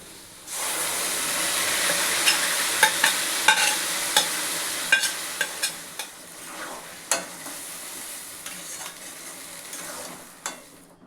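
Fish going into a pan of hot oil with chopped garlic and black cumin, a continuous loud sizzle and hiss punctuated by repeated sharp scrapes and knocks of a spatula stirring.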